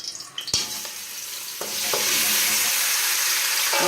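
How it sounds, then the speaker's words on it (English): Oxtail meat with thyme hits a hot Dutch pot, with a few clanks and stirring knocks first, then a loud, steady sizzle that builds and holds. "You hear the sizzle? That means it's hot."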